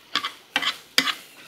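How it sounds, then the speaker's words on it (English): Breakfast mixture stirred in a bowl with a spoon, three short scraping strokes with brief clinks, close and fairly quiet, no talking. "I'm just going to start mixing this up together"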